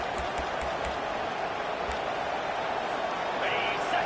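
Stadium crowd at a college football game, a broad continuous roar of many voices with scattered claps, steady and loud throughout as a backdrop.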